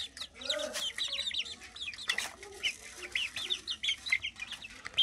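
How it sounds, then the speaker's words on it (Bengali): Caged chickens feeding on leafy greens, with busy clucking and high chirpy calls throughout, soft pecking and tearing mixed into steady farmyard fowl noise at close range. "এই যে দেখতে পাচ্ছেন, ওরা একেবারে ঠোকর মেরে ছিঁড়ে"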